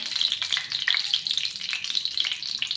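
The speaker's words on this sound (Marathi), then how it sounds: "मौरी टाकली आहे तेल गरम झालंय" Fennel seeds crackle and sizzle in hot oil, a steady close frying hiss with quick pops and spits that stays alone throughout, with no one speaking.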